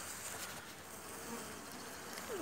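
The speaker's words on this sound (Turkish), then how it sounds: "Biraz saldırgan, aç kalmış arı." Honey bees in an opened hive fill the air with a steady, dense buzz, close and fairly quiet, with no talk over it.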